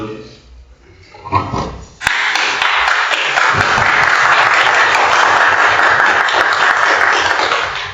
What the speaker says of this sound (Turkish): o kuvvetli alkış nereden geliyor?